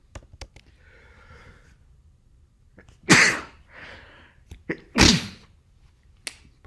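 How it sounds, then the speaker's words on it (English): A person sneezes twice at close range, two sharp bursts a couple of seconds apart, with faint keyboard clicks and quiet breaths around them in a still room. "That was a sneeze."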